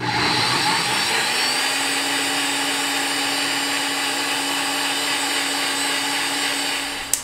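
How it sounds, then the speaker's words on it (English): An electric blender runs steadily on chocoflan batter, a continuous loud whirring motor whine that holds an even pitch for several seconds before stopping with a brief knock at the end. "Let me plug in my blender."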